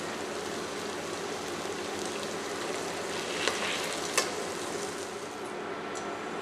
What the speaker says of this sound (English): The next step is to saute the condiments.